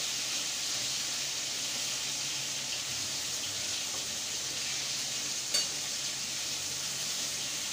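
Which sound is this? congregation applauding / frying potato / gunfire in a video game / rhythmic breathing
frying potato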